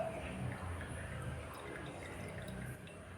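Coffee drips slowly through a filter into the cup below. The faint, soft drips sit close by under a low background hiss.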